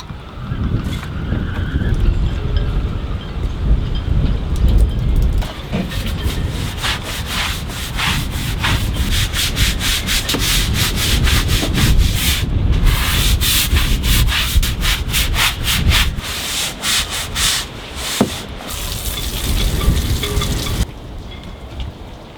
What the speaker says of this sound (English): scrubbing these decks would be a little easier, but they are dirty